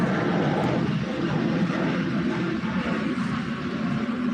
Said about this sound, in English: plane coming from the airport